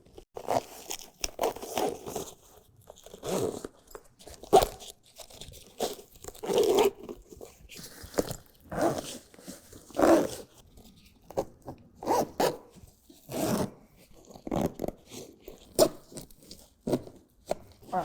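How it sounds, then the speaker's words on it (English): A zipper is drawn repeatedly as the sidewall and bulkhead sections of a Husky Liners Guardian Impact full truck bed liner are zipped onto its exterior zipper for a 2026 Chevy Silverado, with crinkling and rustling of the liner material in between, no talk. "grab the sidewall and bulkhead portions and zip that on to"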